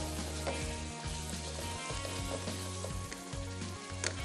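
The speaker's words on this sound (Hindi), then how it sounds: "10 से 20 सेकंड तक थोड़ी सी भुनाई करनी है।" Chopped ingredients and green coriander roast in a pan for prawn karahi, giving a loud, steady sizzle with occasional stirring scrapes throughout.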